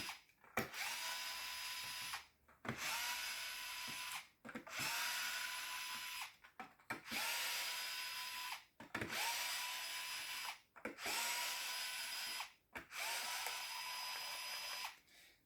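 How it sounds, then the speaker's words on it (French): A cordless screwdriver backs stainless steel screws out of a device's hull. About seven loud, whirring bursts of a few seconds each are separated by short pauses. "Moi, je vais le faire à la visseuse, mais je vous le déconseille."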